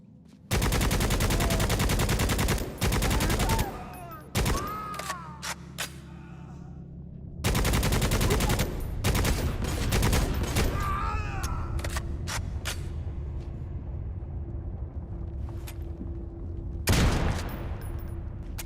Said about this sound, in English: That is definitely still buckshot. Very tight buckshot, but nevertheless, still buckshot.